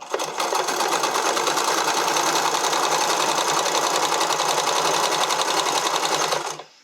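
Sewing machine stitches continuously over the edge of elastic on a skating dress, a rapid even clatter running for several seconds at close range before stopping abruptly.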